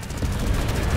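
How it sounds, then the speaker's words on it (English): Mortar fire in the zombie shooter 1 Million Zombies, launched from a Doom Buggy vehicle: a dense, booming low rumble of blasts that holds loud and steady for about a second. "Love the mortar."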